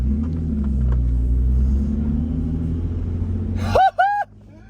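A Lexus IS300 drift car, just swapped to a manual gearbox, idles with a low, steady engine rumble close by. A brief high squeal cuts in near the end.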